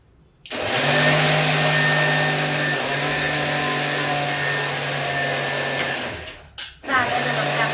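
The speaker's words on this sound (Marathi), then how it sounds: "तर आता आपला मसाला फिरवून घ्यायला लागले" A mixer grinder whirs loudly and steadily for several seconds as it grinds spice masala for stuffed chilli pickle, stops briefly with a clatter, then starts up again.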